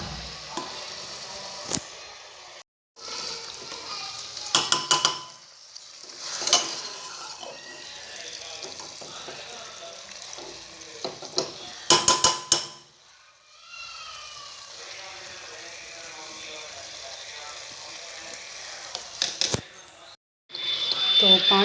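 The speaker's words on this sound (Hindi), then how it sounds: "अब हम इसे काफ़ी अच्छे से मिक्स कर लेंगे और बिल्कुल मीडियम फ्लेम पे हम इसे 5 मिनट बिना ढके फ्राई करेंगे" Spiced chicken fries in a pan over a medium flame, giving a steady soft sizzle. A spoon scrapes and stirs it in several separate bursts, and a person talks over the cooking at times.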